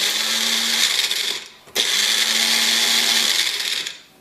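A blender pulses cucumber, pepper and garlic for a spicy chutney: two loud, steady motor whirs, each over a second long, with a short break between them and a clear stop at the end.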